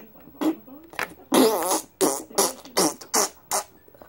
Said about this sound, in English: I was powered by farts.